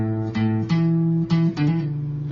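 Electric guitar riff, plucked notes with a hammer-on and pull-off changing pitch smoothly between open strings and fretted notes, clean and close, played alone.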